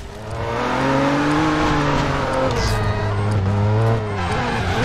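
A rear-wheel-drive car engine in the Driver San Francisco video game revs loud and steady, its pitch sliding up and down as the car accelerates and eases off, with no talking over it.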